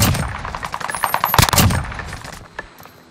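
MP40 submachine gun in the Warzone video game firing rapid automatic bursts, dense crackling gunfire loud and continuous with brief gaps, close to the listener.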